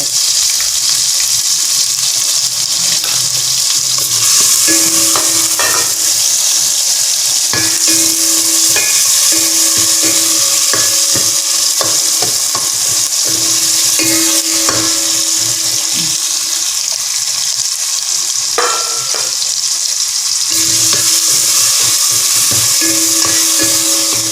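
Garlic and tomato frying in a pan for chicken soup, a steady loud sizzle running throughout with repeated scraping stirs and clinks of a utensil against the pan.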